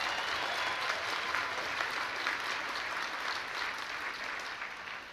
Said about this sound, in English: was that Roger Ailes applauding out there?